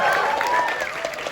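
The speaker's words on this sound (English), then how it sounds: "Well, you can applaud." A theater audience at a Jurassic World: Dominion screening in New York applauds in a short, dense burst of clapping that stays steady and fills the room, with a voice faintly audible underneath.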